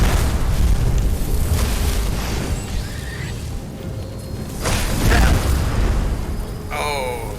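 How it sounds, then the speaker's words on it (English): Fireball spell explosions in Skyrim, a dense roaring rumble of blasts with a couple of sharper booms near the middle, loud and close, under continuous game noise. "And then then we'll get fireballs."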